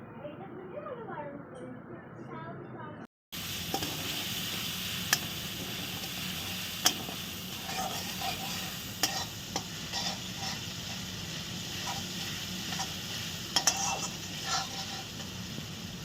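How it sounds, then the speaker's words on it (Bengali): Chicken with a spoonful of ginger paste being sautéed in a pan for Moharani chicken, a low steady sizzle with occasional sharp clicks and scrapes of a spoon stirring, after a brief quieter stretch at the start. "দিয়ে ভালো করে আমরা এটাকে কষিয়ে নেব।"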